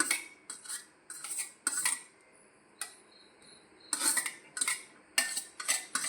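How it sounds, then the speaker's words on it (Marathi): Brinjal slices being mixed with salt and chili powder in a metal dish, giving bursts of clinking and scraping utensil sounds that come and go in short clusters, with quiet gaps between them and no talking. "आनी सगळें न्हू घालून मिक्स करपाचें"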